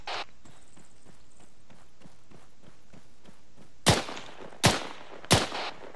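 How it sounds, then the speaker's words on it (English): Gunfire during an alternate-bounding team drill in basic formation and movement tactics training: a long run of rapid, evenly spaced shots at moderate distance, then three loud, sharp, close reports near the end. "Steady barrage of fire as the teams advance."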